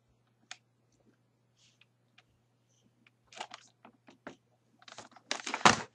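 Hashtags are typed on a computer keyboard in a quiet room: sparse, isolated key clicks at first, then quicker clusters of taps building into a brisk burst of typing at the end.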